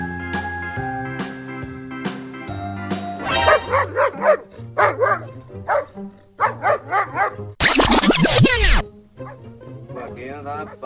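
A dog barks in several short bursts and one long loud yelping outburst, mixed with a sustained musical tone and voices talking in between, close and fairly loud.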